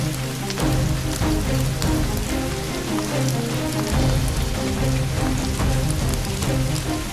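Heavy rain pours steadily in Andhra Pradesh, a dense, continuous hiss of drops drumming on surfaces, loud and close throughout with no voices.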